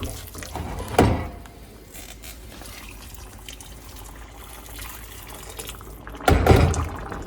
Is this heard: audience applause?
no